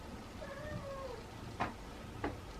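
Feral cats meow at feeding time outdoors: one drawn-out, wavering meow rises and falls, followed by two short, sharp clicks or taps over a soft, steady background.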